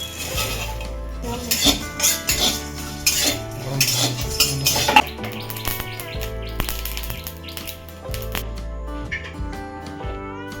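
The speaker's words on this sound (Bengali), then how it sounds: "ভাজা মশলা করে নেবো শুকনো লঙ্কাটা আগে দিই এখানে আমি নিয়েছি গোটা জিরে গোটা ধনে মৌরি লবঙ্গ এলাচ দারচিনি আর গোলমরিচ" Whole spices (dried red chilli, cumin, coriander seeds, fennel, cloves, cardamom, cinnamon and black pepper) are dry-roasted in a pan, with repeated scraping and metallic clinks of a spatula against the pan, birds chirping faintly in the background.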